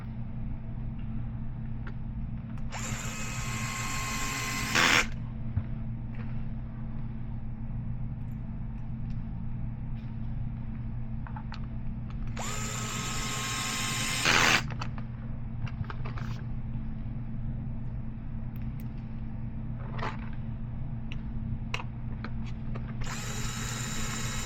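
Small screws being driven in to mount a body panel on a Losi Sprint 22s RC car, heard as three short bursts of whirring screwdriver or drill sound over a steady low hum, with quiet handling clicks between.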